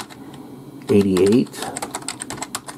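Vintage PS/2 computer keyboard about 37 years old being typed on, brief clicky keystrokes in quick bursts, nearby, with a voice speaking briefly over part of it.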